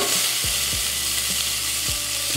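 Chopped onion sizzles steadily in hot oil in a pan, a close, even frying hiss with a few faint clinks of a utensil.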